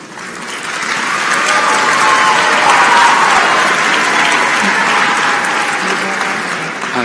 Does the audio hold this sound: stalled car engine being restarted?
no